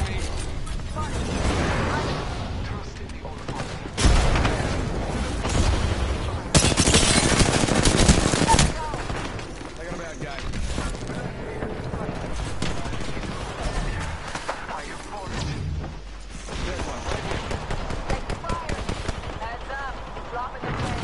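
Rapid gunfire from a PS4 shooter game rattles loudly and almost continuously, with a heavier burst of shots near the middle, while someone talks over the action.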